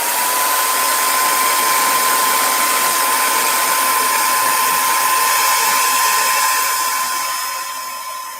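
A hair dryer runs at high speed to dry hair, a loud steady close-up whoosh with a constant whine, easing off near the end.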